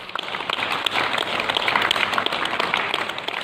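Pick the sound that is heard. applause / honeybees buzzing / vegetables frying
applause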